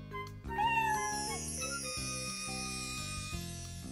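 Cartoon kitten meows several times in an animated children's show, soft and close over a bed of light background music, with no talking.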